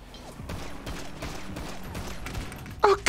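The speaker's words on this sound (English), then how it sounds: "Oh shit, who's shooting me?" Rapid gunfire in GTA Online rattles in dense, continuous bursts at middle distance, ending with a few louder, close shots.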